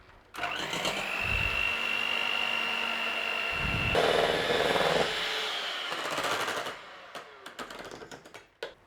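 An electric mixer whips heavy cream to stiff peaks for a no-egg mandarin orange tiramisu, a steady whirring drone that runs for several seconds, shifts in pitch partway through, then fades into a few scattered knocks and clatters.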